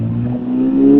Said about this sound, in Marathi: गाडी आता आहे पहिल्या गेअरवरती.